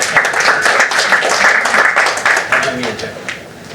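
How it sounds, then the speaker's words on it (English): An audience at a talk on generative AI for life sciences gives a presenter a round of applause: dense, steady clapping from a crowd that thins and fades toward the end. "A round of applause for Anthony."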